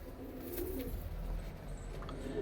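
Panjabi chatri pigeons coo softly nearby, low repeated murmuring calls against quiet background noise.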